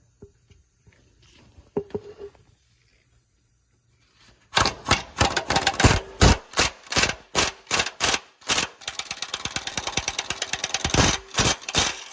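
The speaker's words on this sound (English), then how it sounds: "we got my impact gun with a big extension with a swivel going to the bottom nut" An impact gun with a long extension and swivel spins off the bottom motor mount nut on a GMC Envoy, a loud rapid hammering rattle starting after a quiet lead-in and running in repeated close bursts to the end.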